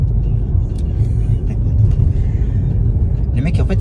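A truck passes close by while turning and manoeuvring, giving a loud, continuous low engine rumble that rises slightly toward the end, with someone talking over it.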